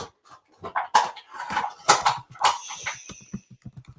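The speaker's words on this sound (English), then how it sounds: "I don't think you can shush the puppy" A puppy yips and whimpers in short, uneven bursts indoors, with small high cries and a brief whine among soft knocks, fairly close and moderately loud.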